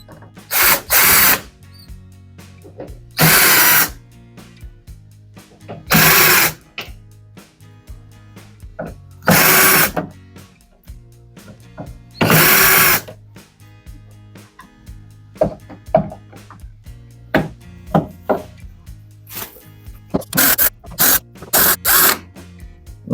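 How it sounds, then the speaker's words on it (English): A power drill unscrews screws from a Candy dryer (CSOEC10TBE-19) under repair, with loud whirring bursts of about a second each at intervals, then shorter rapid bursts near the end, over a low steady hum. "We have to unscrew these two screws, and we will remove all the screws are here."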